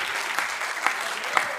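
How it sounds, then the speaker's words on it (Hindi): A comedy show audience claps in a steady, moderately loud wash of applause from many people, with a few sharper claps standing out, a faint voice mixed underneath. "आप लोग तो तालियां ही बजा दो"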